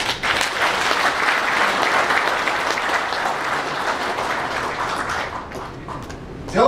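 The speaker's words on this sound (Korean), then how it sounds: "우리 이 분들에 대해서 앉은 자리에서 크게 한번 박수를 치십시다" Sustained, loud audience applause fills a hall during a 2011 general meeting of the Uiseong Kim clan association, with dense clapping steady throughout and tapering slightly near the end.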